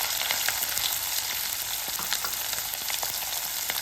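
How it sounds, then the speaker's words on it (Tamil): Chopped onions sizzling in hot oil with cumin seeds for tomato rice, a steady, close, dense frying hiss dotted with small crackles and pops, with no voices. "இப்போ நம்ம வந்து வெங்காயத்தை சேர்த்துறோம்"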